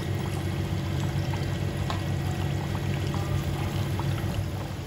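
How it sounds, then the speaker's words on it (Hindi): Ring samosas fry in hot oil over medium heat, giving a steady close bubbling sizzle that continues evenly throughout without speech. "हमारा तेल गरम हो चुका है और हमारे रिंग्स रखे हुए भी 10 मिनट हो चुके हैं। तो हम एक एक करके इसमें रिंग्स डालेंगे।"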